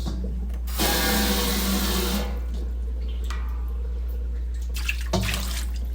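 Water is poured down a sink, gushing and splashing for a couple of seconds, then a few shorter trickles and splashes follow, close by with no talking.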